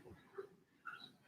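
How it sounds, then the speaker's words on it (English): A dog whines and makes soft, breathy yelps in short bursts, fairly quiet and close, with brief pauses between sounds. "I know the barking is a dog"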